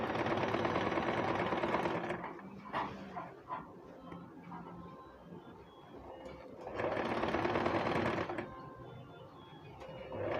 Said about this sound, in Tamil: இது வந்து ஒரு 1/4 இன்ச்சுக்கும் கம்மியாக தான் நான் வந்து மடித்து தைக்கிறேன்